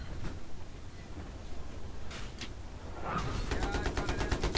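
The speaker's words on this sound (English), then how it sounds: "something's shooting rockets at us" Rockets fired in the Battlefield 3 video game on the Noshahr Canals map, a rapid series of sharp bursts building at the end over steady background rumble.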